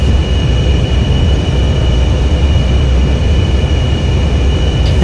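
An F/A-18E Super Hornet's engines run in a flight simulator: a loud, steady low rumbling drone with a constant whine above it and no talking.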